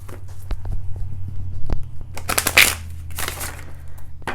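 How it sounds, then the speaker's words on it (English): Tarot clarifier cards being shuffled close up, a run of crisp riffling and papery slaps with a denser burst midway, over a low steady background hum. "Shuffling the clarifiers."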